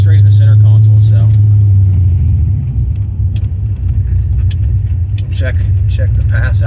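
A big-cam LS2 V8 in a Pontiac GTO drones with a loud, low rumble during a drag strip pass, holding steady with a slight waver while someone talks over it.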